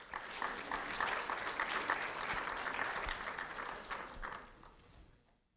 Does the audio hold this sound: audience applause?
yes